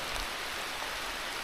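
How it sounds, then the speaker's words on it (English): Steady hiss of rain from an approaching rain front on a bikepacking trip along the Eastern Divide Route, a dense, even wash of noise with no voices. "rain front's hitting. I hope it's gonna pass quick."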